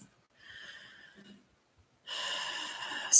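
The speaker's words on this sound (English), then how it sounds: "slow down your breath even better, breathing through the nose, that'd be even better" Slow, soft breaths drawn through the nose during a calming exercise of gentle side-to-side swaying, a quiet inhale followed later by a longer, louder exhale.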